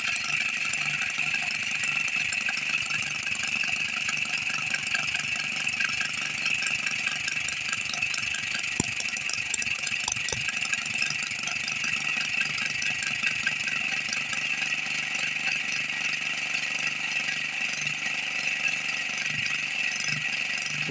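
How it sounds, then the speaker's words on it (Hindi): A small engine whose faulty spark plug was just replaced runs steadily close by, a continuous loud idle with a bright whine and a few knocks, its speed varying slightly over about twenty seconds with no talk. "अभी आप इंजन का रेस देख सकते हैं।"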